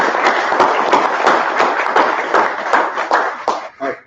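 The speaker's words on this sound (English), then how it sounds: "Round of applause, please, for Richard Hipp" Conference audience applause for a speaker at a Tcl/Tk programming conference, a crisp burst of many hands clapping that tapers off near the end.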